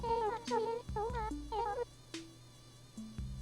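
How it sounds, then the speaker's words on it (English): A whining mosquito buzz plays in the Animal Crossing game on GameCube, steady and sustained beneath bouncy, melodic game music tones. "Something that sounds suspiciously like a mosquito."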